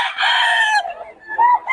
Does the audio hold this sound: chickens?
yes